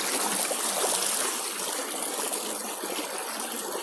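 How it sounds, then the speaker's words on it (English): A stream in Uwharrie runs strongly, a steady, dense rush of water heard up close with no break, loud and even throughout. "that water's cranking there on the end. Yeah. Really flowing good."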